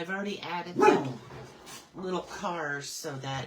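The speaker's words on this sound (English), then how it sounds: "now some dogs are barking outside" Dogs bark outside, sharp yaps under a person talking indoors nearby; one bark stands out clearly early on between the spoken phrases.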